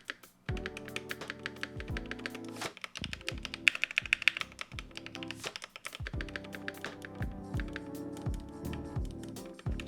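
Keystrokes on a Keychron Q1 mechanical keyboard, with the stabilizers tested during a modding rebuild: rapid, dense clacking and thocking, loud and close, in steady bursts with a short pause near the middle.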